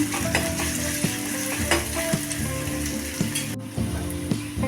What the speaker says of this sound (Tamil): ஒரு பெரிய வெங்காயத்தை பொடிசாக கட் பண்ணி சேர்த்துக்குங்க இது லைட்டாக வதங்கட்டும்